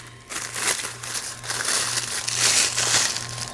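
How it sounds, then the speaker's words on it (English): Crinkly packaging rustles and crumples as camping cookware components are unwrapped, close and uneven, with bursts of louder crackling and no talking. "I'll just unwrap them as we go."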